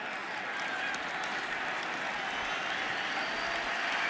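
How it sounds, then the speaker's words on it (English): Stadium crowd applause at a Miami at Oklahoma college football game near halftime: a broad, steady roar of distant clapping and cheering that holds at an even level throughout, with no clear individual claps. "Well, here comes the applause."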